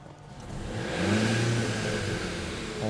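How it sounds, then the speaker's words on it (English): Mercedes-Benz car engine starting up, a starter whir giving way to a loud revving idle that swells and settles, steady and close with no talk. "Let's start the engine real quick."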